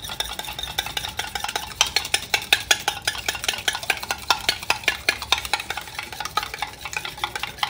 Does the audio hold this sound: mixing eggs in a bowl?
yes